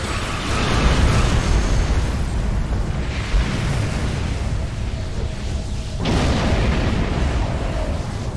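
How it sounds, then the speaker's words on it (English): Plasma torpedoes firing and exploding in space combat against a frigate in the Star Trek Online video game, a loud, continuous roar of blasts and booms with a sharp new burst partway through. "Hard at port, aft weapons, fire. This looks like a frigate type. Plasma torpedoes."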